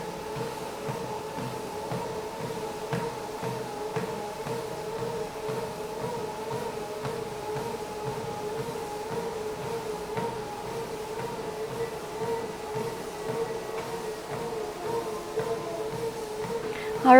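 The incline and drive motors of a NordicTrack 2450 treadmill run with a faint, steady electric hum and whine, carrying a soft rhythmic ticking of the moving belt, constant and quiet throughout.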